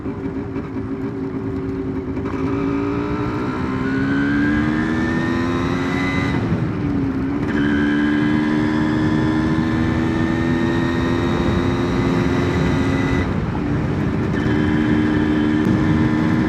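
A 1993 Yamaha DT175 two-stroke motorcycle rides through the Australian countryside, its buzzy engine droning loud and close and rising in pitch through the gears, with brief dips between shifts.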